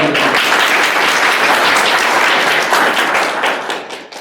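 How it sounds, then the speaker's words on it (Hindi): An audience at a spiritual gathering in Nahan claps loudly to welcome a guest. The dense, close applause runs steadily for several seconds and then tapers off at the end. "ताली बजाओ एक बार"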